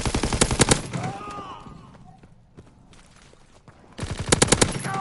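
Call of Duty video game gunfire: rapid automatic bursts at the start and again near the end, with a quieter stretch of game ambience and faint effects between them.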